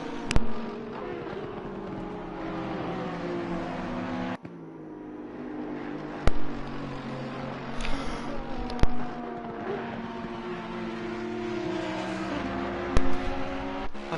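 Race cars from a racing video game at Monza roar through a heavy braking zone and tight section, engines droning steadily with shifting pitch and sharp clicks as they brake and accelerate, no voices.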